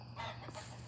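Hens in a backyard chicken coop at night give a brief, faint bout of soft clucking against a quiet background hum. No talking.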